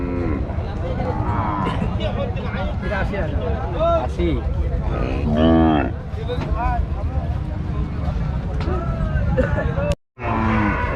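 Cows and calves at a crowded morning cattle market, with drawn-out moos rising over dense crowd chatter and nearby voices, the din briefly cutting out near the end.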